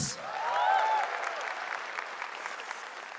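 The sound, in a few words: audience applause at Suci 12 grand final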